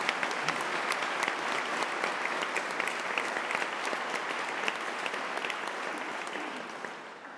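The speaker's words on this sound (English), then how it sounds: "can we get a round of applause for the work that's been done?" Sustained applause from a large graduation ceremony audience, dense clapping holding steady throughout and starting to taper off at the very end.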